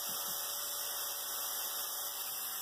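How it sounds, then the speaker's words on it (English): A Dremel rotary tool cleaning the inside of an HO scale Life-Like GP38-2 pancake motor part: a steady, high-pitched whine with a constant tone, close and continuous for the whole stretch. "I'm going to take my Dremel tool, and I'm going to clean the inside of them"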